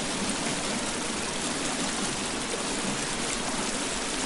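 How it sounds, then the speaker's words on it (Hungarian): Loud, steady rush of a flowing stream in the survival video game The Forest, a dense broadband wash of water that fills the whole stretch without pause and with no voices over it. "Rohadt hangos itt a víz."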